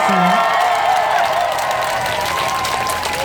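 A crowd at an outdoor event at Daegu's produce market applauds for a singer after rain, a broad wash of clapping with some cheering that slowly tapers while a voice carries on above it.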